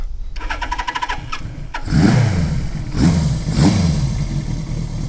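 A rebuilt Suzuki GS850 motorcycle engine with a new fuel filter cranks with a rapid whirring starter, catches, and settles into a loud, close idle with a few throttle blips.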